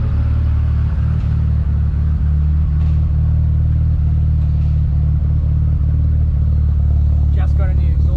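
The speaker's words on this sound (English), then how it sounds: "Just got a new exhaust fitted. It actually sounds pretty good." Nissan S13 Silvia drift car idling with a newly fitted exhaust, a steady deep low rumble held close throughout with a few light mechanical ticks on top.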